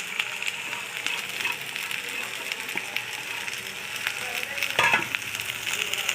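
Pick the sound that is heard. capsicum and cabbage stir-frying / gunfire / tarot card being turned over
capsicum and cabbage stir-frying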